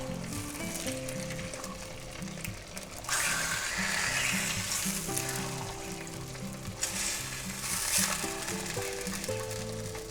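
Slices of bologna sizzle in a frying pan on the stove, a soft steady crackle with brief louder bursts of spitting fat, fairly quiet and close, with no voices.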